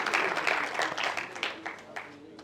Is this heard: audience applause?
yes